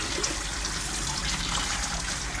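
Water draining from a filter chamber during a pond filter backwash, a steady rushing, gurgling flow heard close and continuous, no talk.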